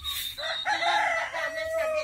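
A rooster crows loudly and close up in one long drawn-out call, with other fowl clucking faintly around it.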